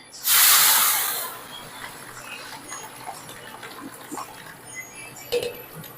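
Tomato paste hits a hot cooking machine with a loud burst of hissing sizzle that quickly fades to a low, steady crackle over several seconds, with no talk.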